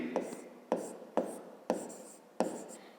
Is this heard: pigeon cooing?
no